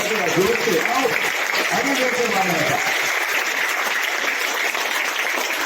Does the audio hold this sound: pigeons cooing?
no